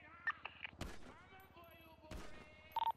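Video game gunfire from a Browning machine gun during a rooftop fight in Little Italy, heard as two loud, short broadband bursts amid sparse clicks and game tones, with a voice briefly present.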